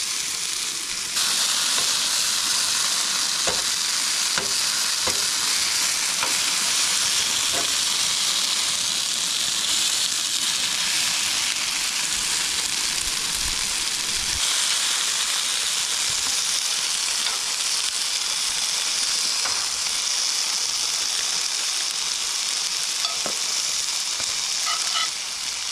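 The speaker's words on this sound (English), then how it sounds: "I put the steak on there, so it's cooking." Steak sizzles in a pan on a camp stove at a campsite in a burned forest in Utah, a steady loud frying hiss that holds for the whole stretch with small pops now and then.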